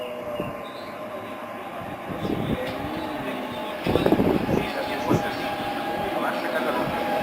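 An FGC Vallès commuter train moves through Plaça Catalunya station with rumbling wheels, clicks over rail joints and brief squeals, heard at moderate distance amid station ambience.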